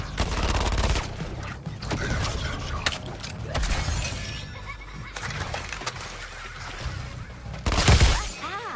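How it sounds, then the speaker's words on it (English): Gunfire rattles in a Suicide Squad video game, with bursts of shots, impacts and shattering that come loud and close, then a heavier blast near the end. "Firing on Boomerang"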